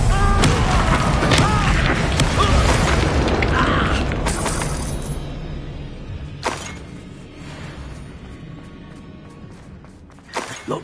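A bombarda blasting spell in a Harry Potter video game goes off as a loud boom with shattering debris and mechanical clanks, then decays into a lower rumble, with sharp sporadic cracks near the end.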